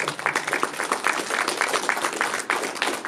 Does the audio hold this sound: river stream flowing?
no